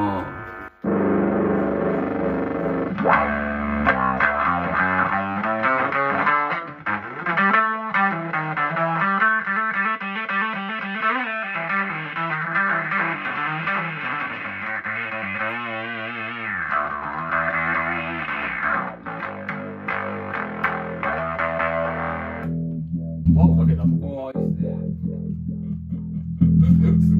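A guitar plays through a late-1970s Morley Power Wah Fuzz effects pedal. The loud, sustained, fuzzy distorted tone rings almost without a break before a short pause and a few final notes.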